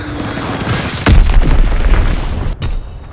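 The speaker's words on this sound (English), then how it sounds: "Enemy bomb incoming! Get to cover!" An enemy bomb explodes in Call of Duty: WWII multiplayer, a loud close boom with rumbling low-end aftermath over constant battlefield noise.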